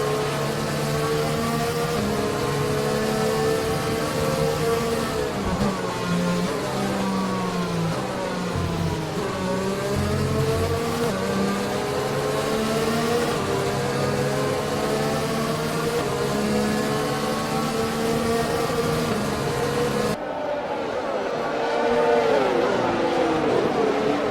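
Formula 1 race car engines whine steadily behind the safety car during the Canadian Grand Prix in F1 2020, a loud, continuous tone that rises and falls in pitch as the cars move, with no voices over it.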